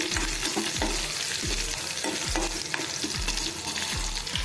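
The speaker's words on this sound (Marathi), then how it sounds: "त्यानंतर ह्याच्यामध्ये आपण थोडा कढीपत्ता घालूया कढीपत्ता पण आपण परतून घ्यायचा आहे" Garlic and curry leaves sautéing in a pan for a spicy dhaba-style veg Maratha, a continuous sizzle broken by regular scraping strokes of a spoon against the pan.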